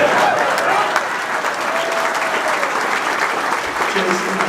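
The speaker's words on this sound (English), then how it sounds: "You gotta clap for that" A press conference audience at CU Boulder applauds loudly and steadily throughout, a dense wash of clapping with scattered cheers.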